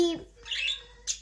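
Pet birds chirping indoors: a few short, bright tweets and a squawk-like call scattered over about a second, with a person talking at the start.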